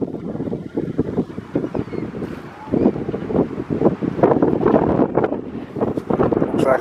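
Strong wind buffets the microphone outdoors beside a football pitch in Crewe, with loud, uneven low rumbling gusts that swell and fade throughout and grow stronger toward the end.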